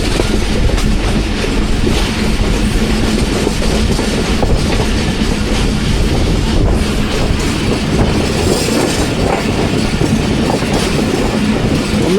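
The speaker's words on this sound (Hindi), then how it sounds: "हरिपुर बंद रेलवे स्टेशन पे हमारी ट्रेन लूप लाइन पे रुकेगी और 13 अप जाएगी थ्रू।" Pakistan Express, travelling from Rawalpindi to Wazirabad on an early rainy morning, runs toward Haripur station and its loop line. A loud, steady rumble of wheels and carriages rolls on without pause, heard from on board.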